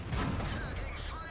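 A KV-1 tank cannon firing in World of Tanks, a heavy, booming gunshot with a dense low rumble that fills the short clip, loud and close, with game noise around it.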